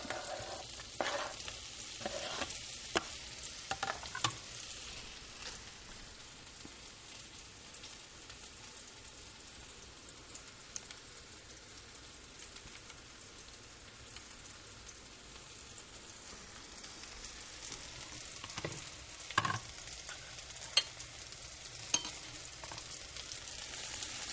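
Mushrooms soften and fry in butter in a pan, giving a steady low sizzle throughout with occasional louder stirring clatters and scrapes near the start and again toward the end.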